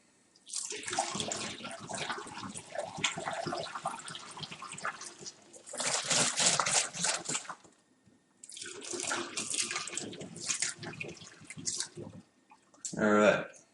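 Liquid pours steadily into a container during home brewing of apfelwein with apple juice and sugar, splashing in bursts separated by short pauses, fairly close and loud, with a brief voice at the end.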